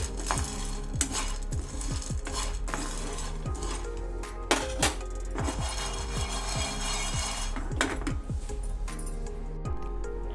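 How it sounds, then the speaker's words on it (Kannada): Chickpeas dry-fry in a pan, a steady rattle of small hard grains scraping and clinking against metal as they are stirred, close and continuous with only occasional speech. "ಕಡಲೆ ಫ್ರೈ ಆಗ್ತಿದೆ"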